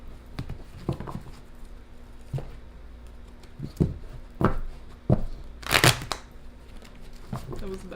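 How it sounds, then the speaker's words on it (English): Tarot cards shuffled close by in scattered soft riffles and taps, with one louder flurry of shuffling near the end and a faint voice underneath. "Couple more shuffles and I'll get right into it."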